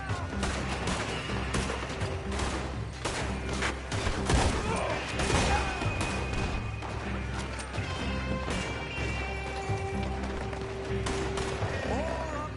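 Video game shootout on PS4 with dense, continuous gunfire and crashing impacts over a loud, busy mix, with shouted voices underneath.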